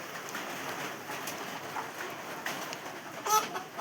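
A large flock of chickens on a poultry farm clucks and chatters continuously at moderate distance, with a sharper squawk near the end over a hissing background.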